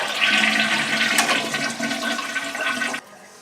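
A 1950s toilet flushed to empty its tank, a loud close rushing gush of water that drains for about three seconds and then cuts off, with no talking.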